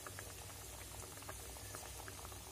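Chicken fry gravy bubbles steadily in a pan, a continuous soft simmering hiss dotted with small pops, fairly faint and with no talking.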